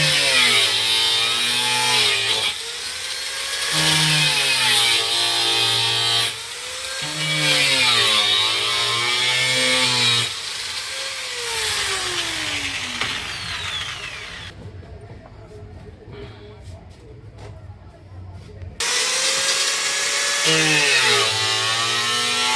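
A power saw runs in repeated loud bursts, cutting three marked sides of a piece of wood, with rising and falling pitch as the blade loads, a short quieter gap, then another burst.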